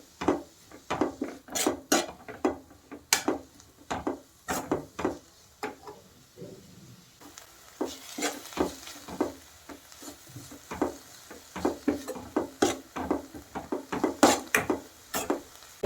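Sweet corn salad ingredients stirred and fried in a pan, with a spoon or spatula knocking and scraping against the pan in frequent, irregular clatters throughout, fairly close and moderately loud, with no talking.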